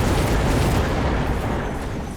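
Rocket explosions in the strategy video game Mechabellum form a dense, continuous roar of overlapping booms and crackle, loud and sustained throughout.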